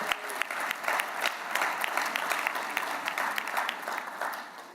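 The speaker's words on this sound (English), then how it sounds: "Please give them a round of applause for all the great partnership that they do for the city" Steady applause from an awards gala audience, a dense wash of clapping that runs the full length at moderate loudness with no talk over it.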